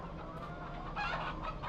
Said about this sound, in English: So there are our Fatten Chickens.